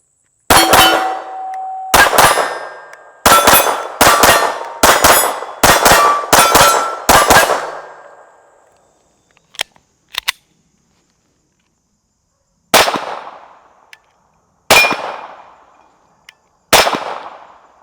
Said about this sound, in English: Let's do some double taps.